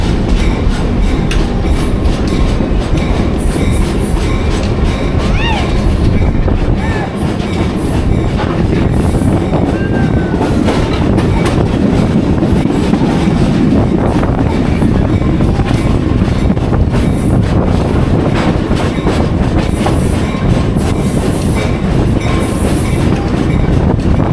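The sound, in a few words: Black River & Western Railroad train running along the track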